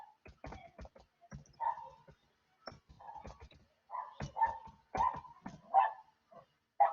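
A small female dog barks excitedly indoors in repeated sharp yips and barks, broken by short pauses and some whimpering, close to the microphone and growing more insistent toward the end.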